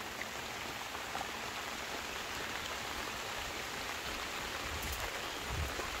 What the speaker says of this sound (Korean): 비와도 비가 이렇게 많이 오는데